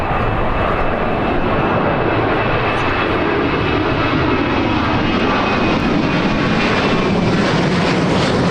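A departing airliner roars loudly and steadily at Birmingham airport, its broad engine noise filling the whole stretch without a break.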